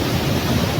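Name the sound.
waterfall in Karura Forest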